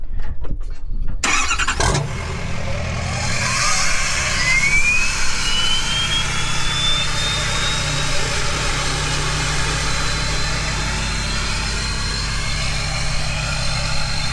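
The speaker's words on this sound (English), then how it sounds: "So here's a nice cold startup" A truck engine with a 5-inch exhaust cranks and fires up from cold, then settles into a loud, rumbling idle with a deep exhaust note close by.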